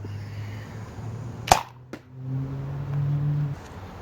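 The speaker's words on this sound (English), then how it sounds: "Same barrel, this time firing a Mega Dart." A Boomco toy blaster barrel fires a Mega Dart with one sharp loud snap, then a second smaller click, followed by a low mechanical hum with no talk.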